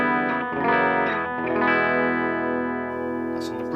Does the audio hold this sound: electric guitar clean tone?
yes